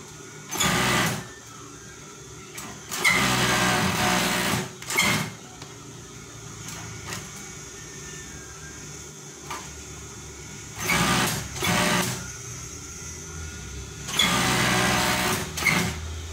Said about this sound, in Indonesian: kalau udah begini tinggal dijahit bagian pinggirnya